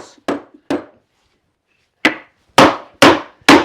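Wooden boards being tapped down onto wooden bar clamps while a tabletop is jointed: six sharp, loud knocks, two close together, a pause of about a second, then four more in a quicker run.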